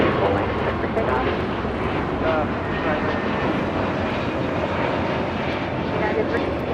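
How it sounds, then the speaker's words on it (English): A United airliner takes off on a full-length runway at LAX, with a broad steady roar of jet engines throughout and faint voices under it. "United 368, 106, Arnab Docker, runway full length, set for takeoff"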